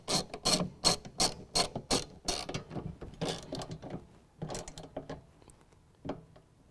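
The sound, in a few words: tightening bolts into nutserts on Toyota Tacoma truck bed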